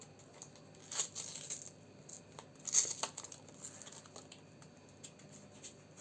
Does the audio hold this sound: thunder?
no